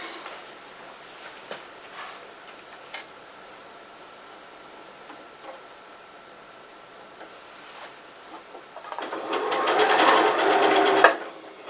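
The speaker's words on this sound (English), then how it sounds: "I'm going to stitch all the way up this way and up this way." A sewing machine stitches a fabric seam at a 3/8 inch seam allowance, quiet and intermittent at first, then rising into a loud, steady run of rapid needle whirring near the end.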